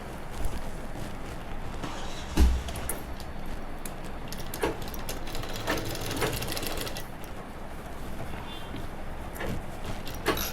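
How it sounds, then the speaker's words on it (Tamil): A sewing machine stitches over a seam while altering a ready-made nighty in a tailoring class, giving a steady, continuous whirring run with one brief thump partway through. "அதனால் வந்து தையல் மேலே தான் அடிக்க போகிறேன்."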